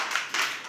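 Children clap their hands together in a classroom activity, a few quick sharp claps close by with no talk.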